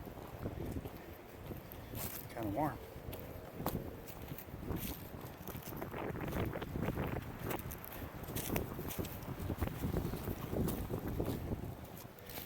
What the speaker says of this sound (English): Probably hear the wind blowing.